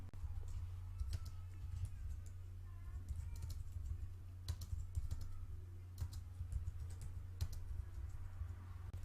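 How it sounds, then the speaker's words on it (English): Keys on a computer keyboard are typed in quick, irregular bursts of soft clicks, close and fairly quiet over a low constant hum. "if you start typing"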